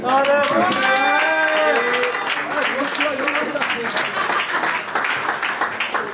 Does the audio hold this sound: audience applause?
yes